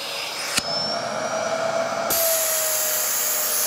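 A Dyson DC14 Animal vacuum cleaner motor runs with a loud, high-pitched whine, broken by two sharp clicks and a brief drop in pitch as the suction is blocked and released.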